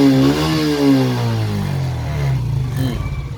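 A Suzuki Smash 115 motorcycle with a stock carburetor and regulator starts and revs up, its engine note rising and falling in pitch before settling into an uneven idle, heard close and alone.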